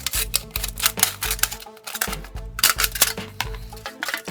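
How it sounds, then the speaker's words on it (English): Scissors cutting straight across the middle of an aluminium soft drink can, a dense run of loud, close, rapid crunching snips with brief pauses, no talk. "And then we'll just cut straight across the middle."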